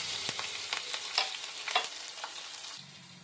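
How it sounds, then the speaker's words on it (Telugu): Tempering seeds, green chilies and onion fry in hot oil, a faint continuous sizzle with a few soft stirring scrapes and spatters, close but quiet. "ఇప్పుడు నూనె మరిగింది, దీంట్లో కొంచెం తాలింపు గింజలు వేసుకుందాం. ఇప్పుడు పచ్చిమిర్చి, ఉల్లిపాయ వేసుకుందాం."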